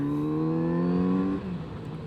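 A Kawasaki Z900RS motorcycle accelerates hard, the engine tone rising smoothly and close for over a second before abruptly dropping off as the throttle closes, with no talk.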